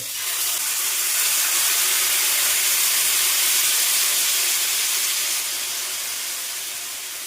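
Cucumber dosa batter hisses and sizzles steadily on an oiled griddle over a medium flame, a loud broad hiss that swells and then gradually fades, with no talking.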